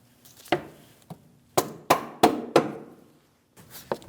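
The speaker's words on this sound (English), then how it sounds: "I'm going to get my rubber mallet and give it a tap." Rubber mallet tapping a fender liner center pin on a Chevrolet Malibu, six sharp knocks in an irregular series followed by a couple of softer taps, close and alone.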